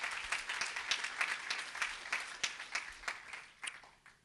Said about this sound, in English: So maybe we give one more round of applause just for that as well.